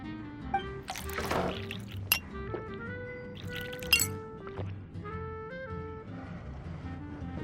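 Juice poured into a glass in Genshin Impact, with light glass clinks and a trickling liquid pour, set over soft background music.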